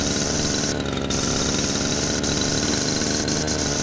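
A lawn mower engine hums steadily in the video game Lawn Mowing Simulator, a continuous mid-pitched drone with a constant even rhythm, up close and without talk.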